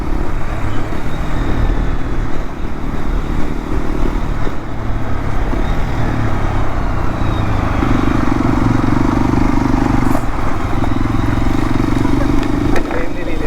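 A Hero XPulse 210 motorcycle engine hums steadily while riding in fourth gear at about 20, with road and wind noise, the engine note droning low and continuous.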